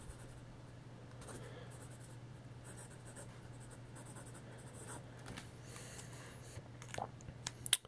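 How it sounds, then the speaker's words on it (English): Parker 17 Lady fountain pen with a wet cursive italic stub nib writing on paper, a soft continuous scratch of nib strokes close up, steady and faint over a low background hum. "So there's that writing performance."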